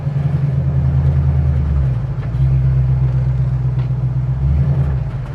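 A Corvette's engine rumbles low and steady as the car rolls forward slowly, a loud, close idle-like drone with a brief dip partway through and no talk.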